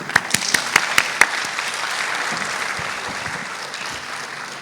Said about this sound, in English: So I think they really deserve a big round of applause.